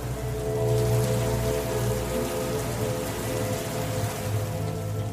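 Heavy rain pouring during a night bus journey, a dense, constant hiss of falling water drumming on surfaces, steady and loud throughout with a low rumble beneath.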